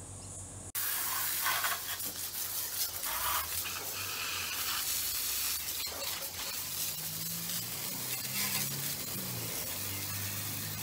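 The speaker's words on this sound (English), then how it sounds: "nothing like a quick little degrease to highlight a few things" Aerosol degreaser sprayed over a BSA M20 motorcycle, a steady loud hiss of spray running almost continuously and close by, with brief pauses and some low rumbling underneath.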